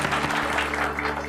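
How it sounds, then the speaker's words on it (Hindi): Crowd clapping at a health event in Bihar, a brief, full-bodied wash of applause holding steady throughout, with a constant electrical hum beneath. "तालियां इनके लिए"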